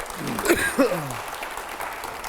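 Audience applause at a televised panel interview with a BJP MP and five editors. Moderately loud, sustained clapping runs throughout, and a voice speaks briefly over it near the start.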